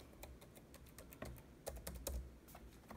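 Typing on the keyboard of a new gaming laptop, a steady run of sharp, close plastic key clicks with small bursts of faster strokes, loud and alone with no talk.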